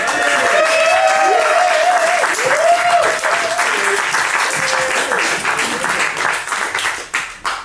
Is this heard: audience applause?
yes